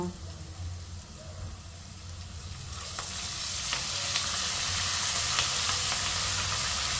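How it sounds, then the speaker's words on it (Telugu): Curry leaves hit hot oil for tamarind pulihora pulusu and set off a loud, hissing sizzle that swells after a few seconds and keeps crackling steadily up close. "ఇప్పుడు కరివేపాకు వేస్తున్నా."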